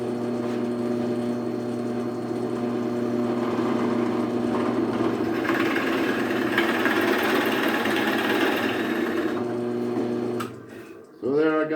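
A drill bores a quarter-inch-deep hole down to a depth stop in a wooden rocking chair part, making a steady motor whine that runs evenly for about ten seconds, then winds down and stops.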